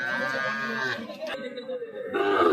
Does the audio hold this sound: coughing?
no